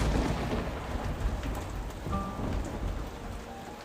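Heavy rain pours steadily at night with rolling thunder rumbling underneath, a dense close wash of rainfall with no voices.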